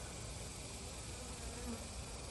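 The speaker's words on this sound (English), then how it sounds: "a lot of bees bringing in nectar, filling in those spots" Honey bees hum around a queenless apiary hive while bringing in nectar, a faint, steady, continuous buzz with no break.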